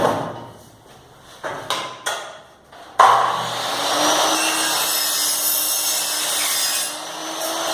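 A saw cuts through an aluminum window screen profile: a few short, sharp strokes at first, then a sustained, loud, steady grinding cut that runs on without talk.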